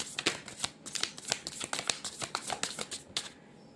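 A deck of tarot cards being shuffled, close and fairly quiet, a quick run of soft riffling flutters and taps in an irregular rhythm with no voice over it.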